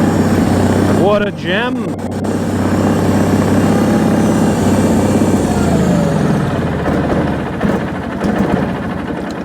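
A Bolens HT20 large-frame garden tractor engine idles steadily close by, a continuous low chugging that runs the whole time while someone talks over it.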